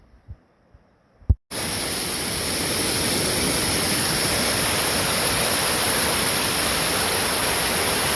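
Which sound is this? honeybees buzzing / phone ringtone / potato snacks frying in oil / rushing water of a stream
rushing water of a stream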